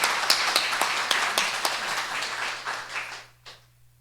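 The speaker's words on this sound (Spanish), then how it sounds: "Un aplauso para el doctor." Audience applause at a book launch, a burst of clapping from a modest crowd that fades out, with a few isolated claps trailing after.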